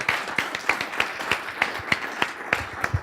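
Steady audience applause with evenly spaced, sharp claps standing out from a dense wash of clapping, close and continuous with no talk.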